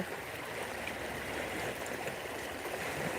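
Bogai river running high in flood after hill rain, a steady broadband rushing roar of fast current, continuous and even throughout with no voices.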